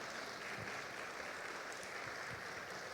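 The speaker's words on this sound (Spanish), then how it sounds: "Dale un aplauso al Señor" A church congregation applauds during a sermon, a soft, distant, continuous patter of many hands held at an even level for about three seconds, with no talk on top.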